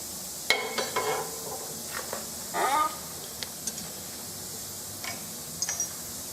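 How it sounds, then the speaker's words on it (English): Center punch pecking marks into metal at each apex, a few faint, sparse metallic ticks and taps spaced irregularly over a quiet hiss. "I'm going to peck each apex with a center punch"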